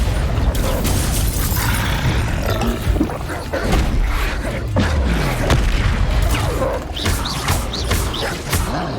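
A Bombarda explosion spell goes off in Hogwarts Legacy amid dense, loud combat effects, with booming blasts, rumbles and magical whooshes running continuously throughout.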